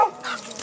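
A dog gives a short yip or bark at close range, one quick burst that lands early in a moment of otherwise quiet indoor sound.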